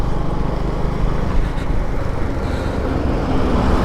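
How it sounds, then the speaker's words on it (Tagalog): A large truck passes on the road, heard from a Suzuki Smash 115R motorcycle, a dense, loud rush of engine and road noise with steady low rumble, close by. "Grabe, lalaki ng truck"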